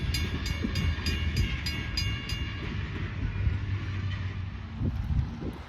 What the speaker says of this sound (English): In this video, we will see N&W 475 and N&W 611 going back and forth past the Red Caboose Motel at Bronx, Pennsylvania along the railroad.